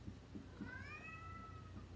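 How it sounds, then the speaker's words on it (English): A house cat meows once, a drawn-out rising and falling call wanting to go outside, heard fairly close over a low steady indoor hum. "My cat is meowing about wanting to go outside."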